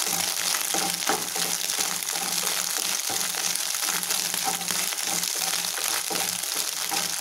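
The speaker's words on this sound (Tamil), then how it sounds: "குறைஞ்சது ஒரு மூணுலேருந்து நாலு நிமிஷம் அளவுக்கு இது போல் வதக்கிட்டு இருக்கணும் பார்த்தீங்கன்னா சவுண்டு படப்பட்டங்குது பாருங்கள்" Broken urad dal sizzles and crackles as it fries in oil in a pan for an egg fry, with continuous close frying hiss dotted with sharp pops and occasional stirring scrapes.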